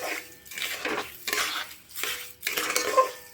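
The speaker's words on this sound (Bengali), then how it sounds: "আমি কড়াইটা গ্যাসের মধ্যে বসিয়ে দিয়েছি। এখন এটা অনবরত নাড়ব" A spoon scrapes and stirs a raw mango mixture in a metal kadai over a gas flame, in steady repeated strokes with light clinks, close and moderately loud, no speech.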